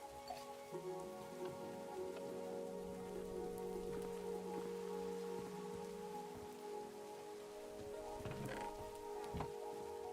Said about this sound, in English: Sorry about the rain, if it's bringing down like the bit rate or something.